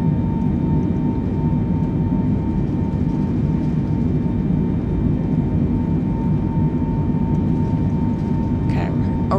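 Airliner in a flight simulator game straining to take off from a very short island runway at Westray, a loud, steady, droning engine roar held throughout with a faint voice briefly near the end.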